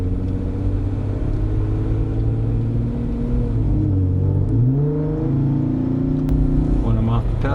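Car fitted with an aFe aftermarket muffler accelerating: a steady, loud exhaust drone that climbs in pitch as revs build, with rising harmonic sweeps toward the end, close by throughout.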